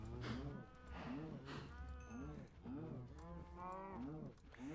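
Cows in the video game Minecraft lowing over and over, several overlapping moos that follow one another in a close, steady series, with no talk over them.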